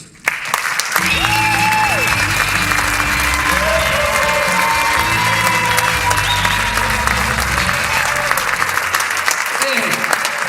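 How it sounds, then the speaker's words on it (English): Loud, sustained audience applause fills a rock hall of fame awards ceremony as a band is welcomed to the stage, steady clapping with crowd cheers running for about ten seconds. "Hey, applause to you."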